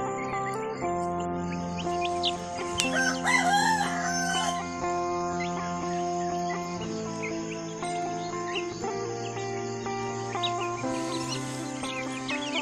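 A rooster crows loudly and repeatedly over a steady chorus of clucking free-range village chickens, including chicks, and chirping birds, with no talking.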